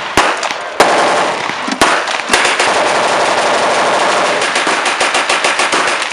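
.50 BMG machine gun firing a 200-round belt-fed burst at Albany in 2013, a loud, rapid, sustained stream of heavy reports that continues for the whole stretch.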